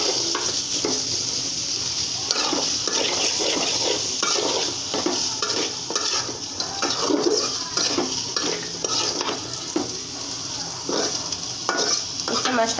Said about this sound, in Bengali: আলু কাটাগুলো দিয়ে দিলাম। একটু হালকা ভেজে নেব।